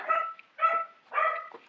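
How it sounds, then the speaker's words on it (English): Dogs bark three times in quick succession at a moderate distance, each bark a short, clear yap with a brief pause between. "I apologize for the dogs barking in the background"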